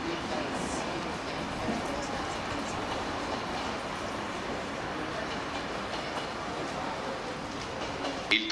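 Trenitalia regional train arriving at a station platform bound for Venice, rolling in with a steady low rumble and faint rail clatter, heard under a station loudspeaker announcement in Italian.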